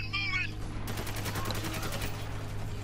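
Rapid gunfire in the Spec Ops The Line video game, a dense fusillade of shots rattling continuously over a low hum, with a brief high electronic chirp at the start.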